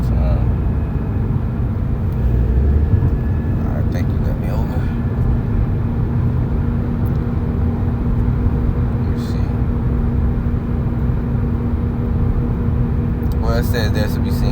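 Steady in-car road rumble with a constant engine drone while a car is driven, a voice talking over it throughout.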